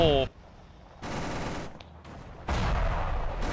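Bursts of gunfire and impacts in the tank game Clash of Panzer, striking an M1038 Humvee's tyre: a short rattle, a lull, then a loud dense burst and another heavy burst near the end, all close and harsh.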